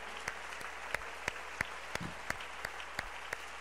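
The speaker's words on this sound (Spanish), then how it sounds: "Dale ese aplauso fuerte al nombre que es" Church congregation applauding, heard faint and distant as a soft wash of clapping, with sharp regular taps standing out above it.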